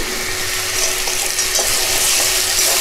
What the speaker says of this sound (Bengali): আর 1-2 মিনিট কষিয়ে আমি একটু গরম মশলা দিয়ে নেড়ে চেড়ে নামিয়ে দেবো